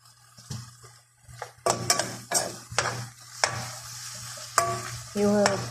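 Meat filling for sambosa stirred in a pan, with close scraping strokes of a utensil over a steady sizzle, the scrapes coming in irregular bursts with a few clinks of metal on the pan.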